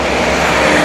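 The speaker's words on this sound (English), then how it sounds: "Wow, that bus is loud." A loud bus passes on a New York City street during a commute toward Chinatown, a steady, dense roar of engine and road noise filling the whole short stretch with no pause.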